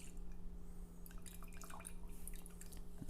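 Homemade spicy stout flavored with vanilla, pepper, cinnamon, cacao and coffee is pressed and poured from a French press, giving quiet trickling and dripping over a steady low hum.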